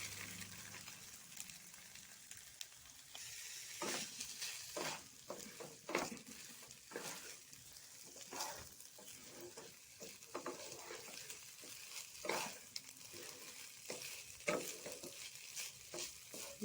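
Washed rice stirred and fried in a pan with garlic and ginger paste for a sweet Bengali pulao gives a soft steady sizzle with repeated scraping strokes of a spoon at an even, unhurried pace.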